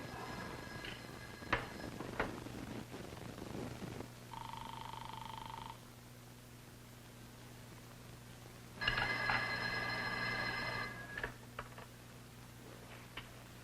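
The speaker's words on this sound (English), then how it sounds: "Ruth, don't you hear the phone?" Telephone bell ringing indoors in a quiet house in a 1962 film, two separate bursts of steady electronic trilling, the first short and the second longer, over a low constant hum and scattered light knocks.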